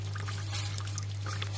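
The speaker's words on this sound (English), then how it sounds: "And as you can see, it just trickles down," Cooling water trickles from the outlet of a reflux still into a bucket, a soft continuous pouring sound over a steady low hum.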